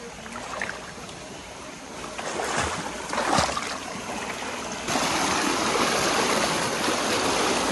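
The Piranha River rushes through the jungle as a loud, constant wash of flowing water, with a few close splashes early on and the roar growing fuller partway through.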